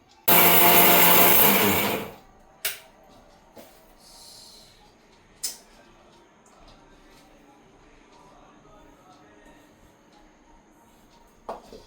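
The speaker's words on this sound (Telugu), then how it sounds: "కొంచెం వాటర్ వేసుకొని చాలా స్మూతీగా మెత్తని పేస్ట్ లాగా ప్రిపేర్ చేసుకోవాలన్నమాట" A blender grinds onion, ginger and garlic with a little water into a smooth paste, a loud dense whir running for about two seconds before cutting off, followed by quieter kitchen knocks and faint background sounds.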